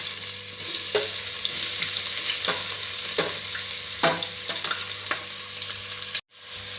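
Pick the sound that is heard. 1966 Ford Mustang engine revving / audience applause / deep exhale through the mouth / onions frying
onions frying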